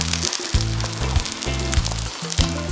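Waina, a Nigerian rice cake batter, frying in a pan, sizzling loud and steady throughout with a few soft scraping touches and repeated low thumps in the background, no talking.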